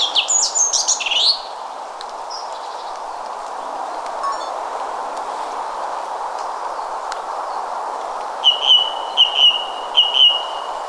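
A songbird slightly more slender than a blackbird, with a cream and brown speckled breast, sings from high in a tree in a woodland, its clear whistled phrases coming in bursts at the start and again near the end over a soft, steady rustle.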